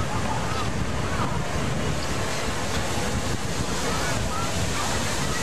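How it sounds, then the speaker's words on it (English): A Triton fountain statue at Walt Disney World sprays water in a loud, constant broadband rush of splashing, mixed with outdoor wind noise. "they've got the Triton squirting water"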